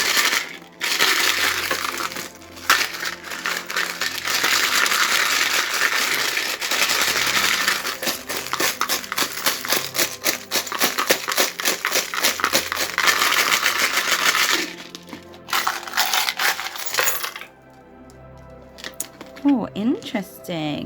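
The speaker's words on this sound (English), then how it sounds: "I'm going to give them a good shake and then we'll cast your charms for the month" Small charms rattle and clatter as they are shaken together in the hands for a charm reading, a dense continuous jingle lasting about fifteen seconds before easing into a few scattered clinks.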